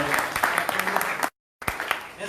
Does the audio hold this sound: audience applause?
yes